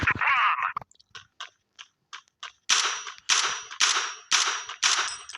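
Sharp AK-47 rifle shots in a video game, fired singly at first, quick faint pops spaced apart, then a run of louder bursts in steady rhythm, close and dry with no talking.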